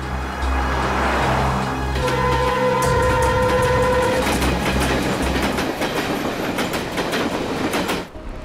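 A train rolls along the rails with a steady loud rumble and rhythmic clickety-clack, a brief tonal squeal or hum midway, close and continuous with no talk.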